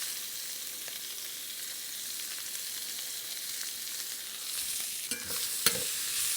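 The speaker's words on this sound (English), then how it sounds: "I'm going to add a little bit of oil and turn down the heat a little bit. And to this, I'm going to add some sliced red onion." Sliced red onion fries in oil over turned-down heat with a soft continuous sizzle, growing a bit louder near the end with a couple of sharp stirring clinks.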